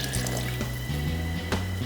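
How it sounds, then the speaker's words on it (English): Water pours steadily into a soup pot of potatoes and shrimp-and-fish broth, a close, continuous liquid splashing with a brief stronger gush near the end, no voices. "I'm gonna add a little bit of water"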